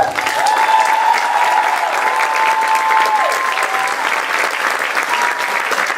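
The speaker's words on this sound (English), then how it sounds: "Please a round of applause for" A pageant audience applauds the cast and crew with steady, sustained clapping at full volume, while a tonal sound drifts above the clapping.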